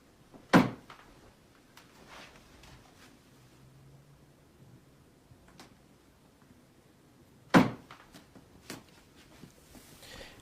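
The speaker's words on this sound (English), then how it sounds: "the knocking is still going on while he's present there in the room" Two sharp knocks or thuds sound in a room, one near the start and another about seven seconds later, with fainter taps between them over a quiet background.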